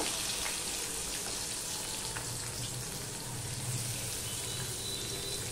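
Chopped onion and garlic frying in fenugreek-seasoned oil in a pan: a steady, close, dense sizzle with faint crackles throughout and no talk.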